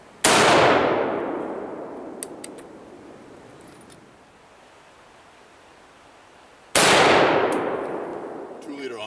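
Two sharp, loud rifle shots from a Rossi .243 Winchester crack several seconds apart, each followed by a long decaying outdoor echo, with a few faint metallic clicks between them.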